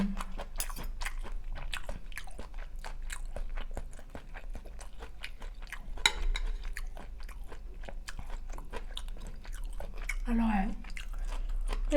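Close, wet chewing of stir-fried kale with pork, with a steady rhythm of crunchy bites and mouth sounds repeating throughout over a low background hum.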